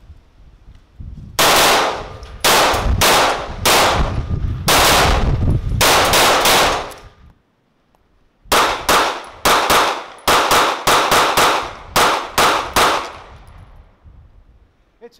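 Gunfire at a range day at Fort Scott Munitions: sharp, loud, close shots in rapid strings, roughly a dozen in a first burst and another string after a short pause, each with a metallic clang and ring.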